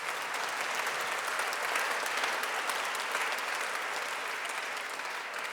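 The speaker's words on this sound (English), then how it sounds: "Let's give them a great round of applause." An audience at the Partnership for Healthy Cities Summit 2025 applauds the World Health Organization and Vital Strategies partners. The clapping is steady, dense and even throughout, with no talk over it.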